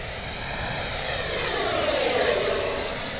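A small RC model jet, a Freewing 64mm JL-10/L-15, screams past at full speed, a steady high whine with a faint whooshing Doppler sweep, heard outdoors from a distance.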